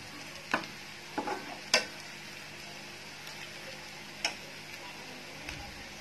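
Keema and onions browning in a pan, with a faint low sizzle broken by a few sharp, scattered spoon clacks as the mix is stirred.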